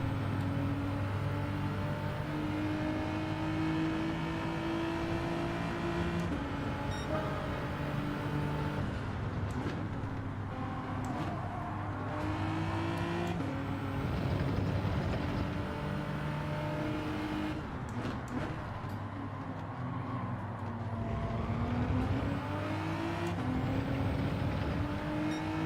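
A four-wheel-drive race car engine in Gran Turismo 7 revs hard and steadily throughout, loud and close, with pitch rising and falling through gear changes and no talk over it.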